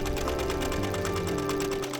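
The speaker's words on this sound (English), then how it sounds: "The needle goes up and down, the thread loops, and the fabric moves." A sewing machine stitches steadily, its needle rattling up and down in a fast, even rhythm that runs unbroken at close range with no voices.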